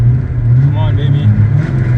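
A cheap Mustang launches and accelerates hard in a street-race-style run, with a steady loud engine drone and rising revs. Cheering voices sound over it.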